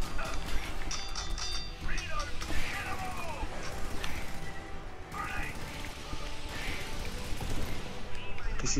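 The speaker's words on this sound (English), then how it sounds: "This is one powerful gun." Heavy weapon fire in the co-op shooter Helldivers 2 comes as loud, rapid bursts of gunshots and impacts mixed with mechanical clatter and game effects, while players talk over it.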